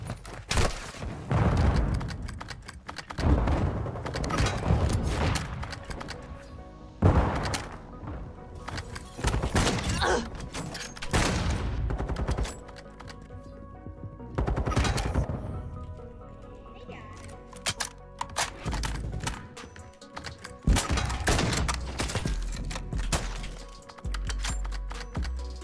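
Gunfire in a first-person shooter game, with repeated bursts of shots, bangs and impacts coming in clusters throughout, with someone talking over the action.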